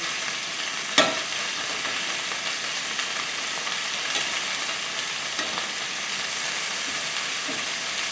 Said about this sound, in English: See how that's browning up nicely?